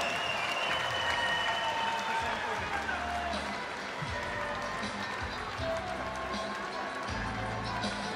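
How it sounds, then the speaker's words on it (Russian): At a fight event, the crowd applauds the winning Russian fighter, a steady wash of clapping filling the hall under an announcer's voice and arena echo. "ваши аплодисменты."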